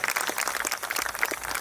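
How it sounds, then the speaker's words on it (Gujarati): Audience applause for a priest at a Catholic clergy and religious gathering, a dense steady patter of many hands clapping throughout, moderately loud with no talk over it. "ખાસ તાળી પાડીએ."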